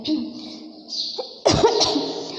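A single sharp cough bursts out near the mic, followed by a rougher throaty cough, after a stretch of low background hum.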